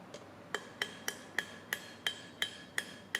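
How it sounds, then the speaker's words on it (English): Steady, evenly spaced metallic ball peen hammer strikes on steel in a blacksmith setting, about nine ringing taps in a row, clear and close with no talking. "Very useful tool, the ball peen hammer."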